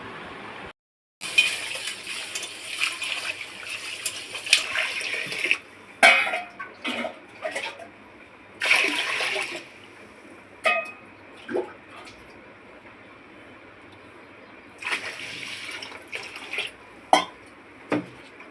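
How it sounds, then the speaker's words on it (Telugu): Two glasses of ration rice being washed clean with water in a home kitchen, with intermittent splashing, swishing and clinking of a metal vessel in bursts separated by quiet pauses, close and moderately loud. "ఇవి రెండు గ్లాసుల రేషన్ బియ్యం అనమాట వీటిని ఫస్ట్ శుభ్రంగా కడుక్కొని"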